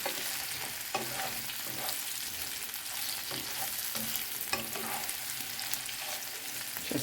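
Potatoes and onion fry in butter in a pan, a steady soft sizzle with occasional stirring scrapes throughout, close by and continuous, with no talking.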